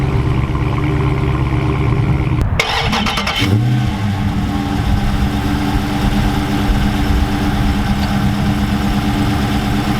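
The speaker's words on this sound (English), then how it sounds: "the Charger still sounds just a little bit better, and it mainly comes down to the more powerful engine" A 2017 Dodge Charger SRT's big Hemi V8 engine rumbles at idle, with a sharp start or blip partway through, then settles into a steady deep burble.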